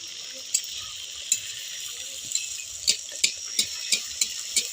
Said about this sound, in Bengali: আবারও একটা আমি ভেজে নিচ্ছি।